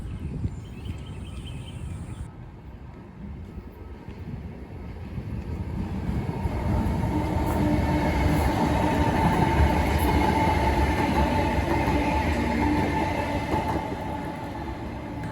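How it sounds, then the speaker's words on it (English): A train rumbles past close by in central Charlotte, a steady loud roar that swells in the middle and stays heavy with metallic rattling and a faint high squeal. "Look at the train."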